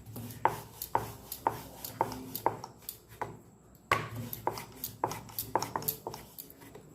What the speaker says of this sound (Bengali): খুব হালকা হাতে বেলতে হবে। এইভাবে আমি বেলে নিচ্ছি।